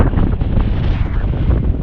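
Strong wind on a hillside in the Eastern Cairngorms, Scotland, buffets the microphone with a loud, continuous low rumble and no pauses.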